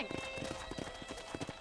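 Horse hooves clip-clop in a steady, evenly spaced rhythm in Red Dead Redemption, near and moderately loud, set against game music and ambience with a voice talking over them.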